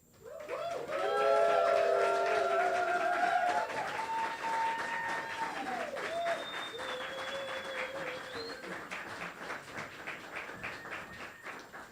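Applause for poets at an evening poetry, jazz and songwriting night, a sustained crowd clapping wash with cheers and whoops rising over it, fairly soft and continuing steadily.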